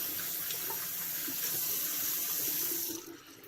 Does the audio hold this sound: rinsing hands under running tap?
yes